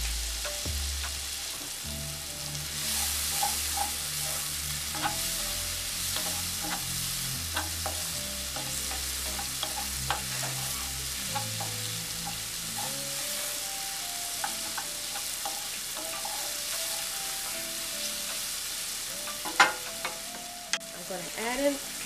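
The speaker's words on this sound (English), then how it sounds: "I'm just going to add in my mushrooms." Mushrooms sauté in a pan with a continuous close hiss and crackle, while a spatula stirs and scrapes in an uneven rhythm throughout and a couple of louder knocks come near the end.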